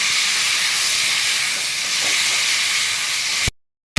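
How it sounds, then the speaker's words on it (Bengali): Tomato paste added to drumstick stems frying in a pan brings a loud, steady hissing sizzle, close and continuous, that cuts off abruptly into silence near the end. "টমেটো বাটাটা দিয়ে দিচ্ছি"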